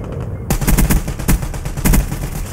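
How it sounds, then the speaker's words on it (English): A sentry gun firing in the Black Ops 3 video game, rapid bursts of automatic fire starting abruptly and continuing in loud, close, rhythmic volleys. "my sentry gun is going ham"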